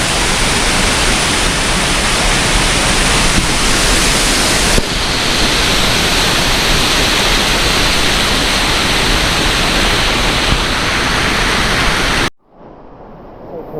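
A waterfall in Bali roars loud and steady from close range, a dense continuous rush of falling water that keeps up unbroken for about twelve seconds before cutting off abruptly.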